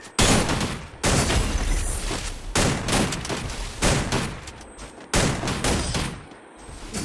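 Loud bursts of rapid gunfire from the Free Fire video game come in several long automatic volleys with brief gaps between them, dense and close.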